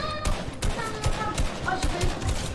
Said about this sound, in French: Ah y'a des tirs là-bas Swan